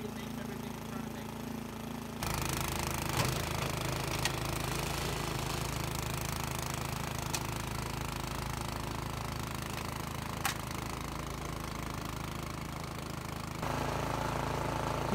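A new Toro Power Max 828 two-stage snowblower clears deep lake-effect snow with a loud, continuous engine drone close by, its pitch steady throughout, with a slight rise in intensity after the first couple of seconds.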